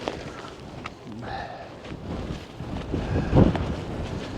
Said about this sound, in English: A little windy up here, definitely gusting